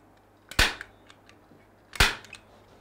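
Staple gun fastening ribbon onto a congratulatory flower stand: two sharp, loud snapping shots about a second and a half apart, each with a short rattle after it, close up in a quiet room.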